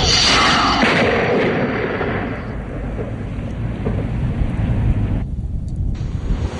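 Rocket launched to trigger lightning during a thunderstorm, fired remotely by fiber optic cable: a loud, sustained broadband roar and rumble that swells at the start and carries on through the whole stretch, like thunder or distant artillery.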